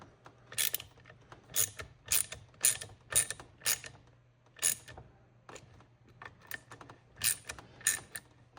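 Screws being driven into plastic threads on a loose Dewalt DWE6423 orbital sander during repair, a series of sharp ratcheting clicks in short bursts with pauses, close and fairly quiet over a low steady hum.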